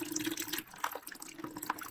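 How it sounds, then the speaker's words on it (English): Water from the pipes of a three-story house drains into a bucket, a trickling, splashing flow with scattered drips heard up close and fairly faint. "All the water that's above me on all 3 stories is coming down into this bucket."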